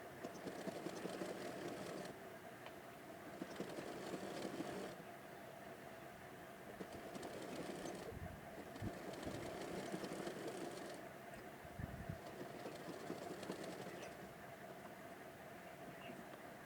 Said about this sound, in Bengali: এখন হিজাবের খোলা অংশটা সেলাই করে নেব।